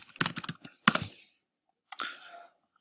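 Short bursts of quick key clicks on a computer keyboard, close and fairly quiet, in two or three brief runs separated by silence.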